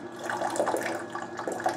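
Water splashing and trickling inside a GE Profile Opal 2.0 nugget ice maker during its cleaning cycle, a steady close gurgling wash that continues without pause.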